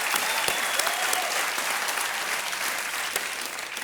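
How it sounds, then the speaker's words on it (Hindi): A studio audience on a televised quiz show claps for two women cricket players, producing a continuous, full round of applause with a few sharper individual claps standing out, sustained evenly without talk. "एक बार फिर ताली।"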